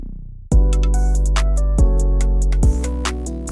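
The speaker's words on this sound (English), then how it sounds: "Now we're going to add a resonant bass or a Benny X bass," A resonant acid bass synth in a new jazz beat plays continuous, buzzy notes that shift pitch a few times, loud and upfront with no voice over it.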